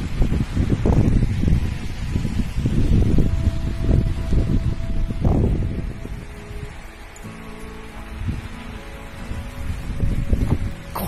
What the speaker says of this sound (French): Est-ce que tu entends le vent? C'est un truc de fou.